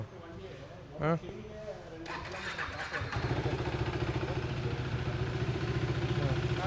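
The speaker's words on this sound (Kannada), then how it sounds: "ಗಾಡಿ ಸೌಂಡ್ ಕೇಳ್ತೀರಾ?" A freshly modified motorcycle, finished with new parts, sits nearby and settles into a steady loud engine run after a brief rev, with talk over the start.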